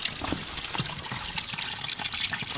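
Water flowing in a stream in the Brocéliande forest, a steady close trickling and bubbling babble that runs continuously without voices.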